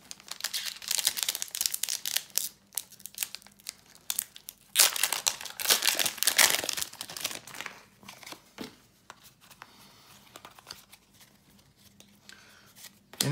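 Foil wrapper of a Pokémon card booster pack crinkling and tearing open up close, in dense bursts of crackling that peak midway and then settle into sparser rustles.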